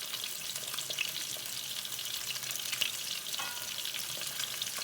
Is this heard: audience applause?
no